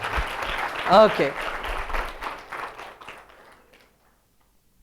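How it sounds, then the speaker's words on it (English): A group applauding at an evening session of a coding marathon, loud clapping and cheering that peaks early, then tapers and fades to silence, with a brief spoken word near the start. "A big round of applause to all of them."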